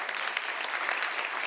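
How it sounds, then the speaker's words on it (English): Audience applause at an anniversary celebration, a dense, steady patter of many hands clapping throughout. "so thank you for the applause for Mr. Coxford."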